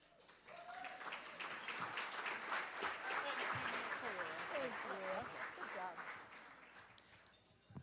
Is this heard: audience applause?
yes